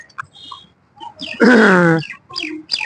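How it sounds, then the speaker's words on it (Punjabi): Birds call in Company Bagh park in Amritsar, where pigeons roost: a few short, close chirps and then one loud, drawn-out harmonic call, followed by further brief chirps against a quiet background. "ਇੱਥੇ ਜੋ ਕਬੂਤਰ ਰਹਿੰਦੇ ਆ ਤੇ ਉਹ ਉੱਡ ਕੇ ਜਾਂਦੇ"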